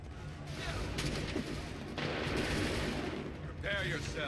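Musket volleys crackle through a battle in the video game Assassin's Creed 3, with layered gunfire bursts and booms under shouted commands and voices.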